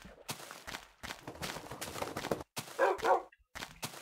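A dog in a video game barks and yips in short bursts over a busy, steady game background, with two louder barks near the end.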